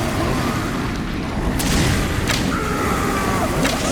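Grenade launcher blasts in Resident Evil 5, fought in a cavern: a continuous rumbling wash of explosions and debris, with a few sharper cracking bursts rising out of the dense, loud din.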